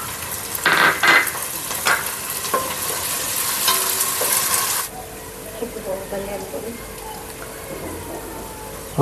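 Green chillies frying in hot oil in a pan for mutton bagara rice, a loud crackling sizzle with stirring scrapes that settles into a softer, steadier frying hiss partway through.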